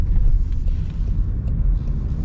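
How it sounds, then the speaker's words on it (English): A 2025 Range Rover Sport SV with a twin-turbo V8 driving on the road: a steady, heavy low rumble of engine and tyres from inside the cabin, loud and continuous, with no single thump standing out. "It's a twin turbo V8, right?"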